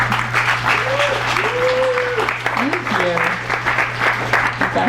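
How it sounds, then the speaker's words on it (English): Audience applause after a poetry reading, a sustained crowd of clapping throughout with a voice or two calling out over it and a low steady hum underneath. "You have to clap after everyone"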